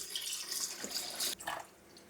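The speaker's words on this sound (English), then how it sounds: "and pour the water into the coffee machine." Water pours and trickles steadily from a pot into a coffee machine for a couple of seconds, a soft splashing stream with a brief break near the end, close by.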